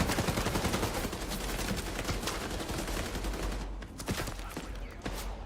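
Dense, sustained gunfire from The Division 2 video game, rapid overlapping shots and bursts filling the whole stretch at steady loudness, with no talk over it.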